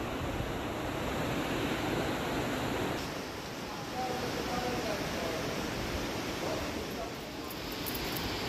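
Flowing water near a Ganpati temple gurgles steadily and fairly loud, a continuous broadband rush that barely changes from start to finish and has no clear talk over it.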